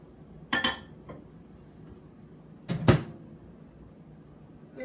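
A microwave door is opened and later shut during chocolate melting, giving two sharp knocking clunks with a few faint clinks around them, close by in an otherwise quiet kitchen.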